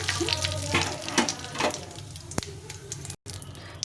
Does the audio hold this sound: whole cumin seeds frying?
yes